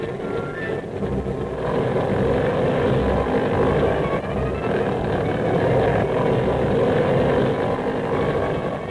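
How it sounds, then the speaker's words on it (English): A 1953 fighter bomber of the 146th Fighter Bomber Wing taxis on the runway, its engine a steady, loud droning roar that holds evenly throughout. "they lose no time in taxiing to the downwind end of the runway."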